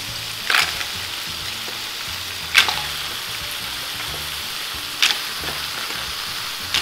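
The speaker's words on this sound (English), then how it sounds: "And then you add in the seafood." Mixed seafood of shrimp, mussels and white clams going into a pot for a coconut milk dish, giving a steady low frying sizzle with a few sharp clinks of stirring or pieces landing, no talk.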